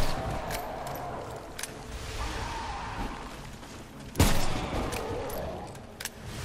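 Gunfire in the shooter game Remnant: From the Ashes: loud, dense bursts of shots with sharp cracks over a busy combat din, and one heavy blast near the middle.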